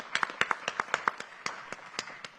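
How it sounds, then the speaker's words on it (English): Sparse, scattered clapping from a small audience at a Senate education committee hearing, sharp separate claps in a loose, uneven rhythm that stay fairly faint and thin out toward the end. "can we give her a round of applause?"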